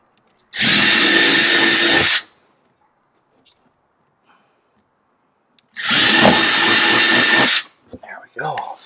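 A power drill with a larger bit runs for two steady, loud bursts of about two seconds each, separated by silence, while drilling pilot holes during a Fox shock install on a Sierra Denali truck. A voice speaks briefly afterward.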